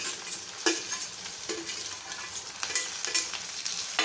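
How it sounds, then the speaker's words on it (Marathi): Chopped vegetables such as tomato and cauliflower fry in a hot pan for a school-meal cowpea khichdi, with a steady close sizzle broken by rhythmic scraping strokes of a spoon stirring every second or so. "हे सगळं मस्त असं फ्राय करायचं"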